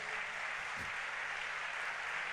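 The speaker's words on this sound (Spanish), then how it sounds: "Denle un aplauso al Señor si lo desea." A church congregation claps together in steady, dense applause during a Spanish-language worship service, a continuous even wash of hands with no break from start to finish.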